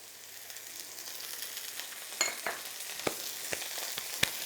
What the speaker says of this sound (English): give that a little fry off for about 5 minutes on a really high heat